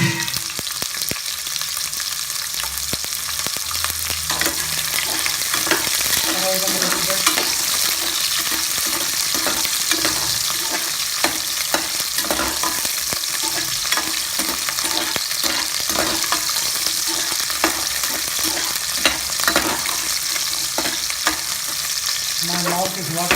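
Small sambar onions frying in a pan for sambar rice, a dense steady sizzle with repeated spoon stirring and scraping, close and loud, no talk.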